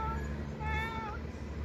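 A single cat meows once in a short, rising and falling call, heard faintly over a steady low background hum.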